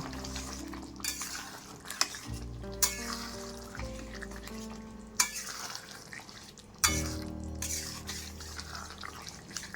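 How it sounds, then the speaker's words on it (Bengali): Cauliflower and egg curry is stirred in a pan with garam masala, a spoon clattering against the metal every couple of seconds over a quiet, steady sizzle, with no voices. "এবার গরম মশলা দিয়ে ভালো করে মিশিয়ে নামিয়ে নেব"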